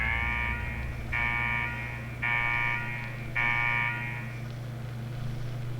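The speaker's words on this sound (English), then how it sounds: "What the hell is that alarm?" A buzzing alarm in Fallout 4's Nuka World sounds in repeated pulses about a second long, four evenly spaced blasts over a steady low hum.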